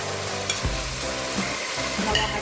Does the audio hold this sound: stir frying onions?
yes